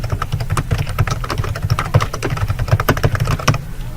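Fast, steady typing on a computer keyboard, with dense, close, crisp key clicks in an irregular rhythm and no talking.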